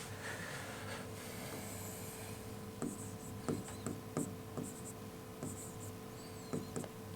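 During a lecture, a marker or chalk taps and scrapes across a board in short, irregular strokes over a steady background hum, close and moderately loud, with no talking.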